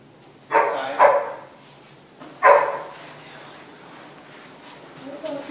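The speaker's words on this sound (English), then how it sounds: "Beautiful dog." A dog barks indoors at a moderate distance, giving two quick barks and then a third after a short pause, with faint shuffling sounds between them.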